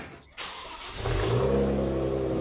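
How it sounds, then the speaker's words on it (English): An Infiniti G35 with freshly installed downpipes cranks and fires up, a short starter whir followed by the engine catching and settling into a loud, steady idle close by. "I need you to start the engine."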